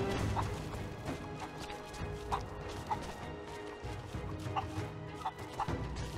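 Chickens clucking in the video game Rise of the Tomb Raider, several short bursts scattered across a busy game soundscape with background noise and thumps, fairly close.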